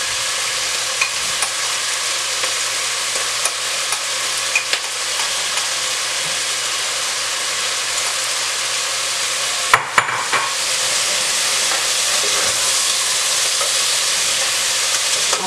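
Garlic and seasoning sizzle steadily in a pot of homemade lentil soup base, a constant loud frying hiss with a few scraping clicks of stirring and no talk.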